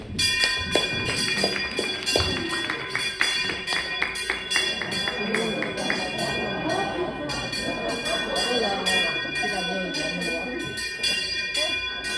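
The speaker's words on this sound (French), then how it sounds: "on entend les cloches sonner" Repeated church bell strikes ring out at a steady rhythm after mass over a busy outdoor village murmur of voices and activity, gradually fading into crowd noise.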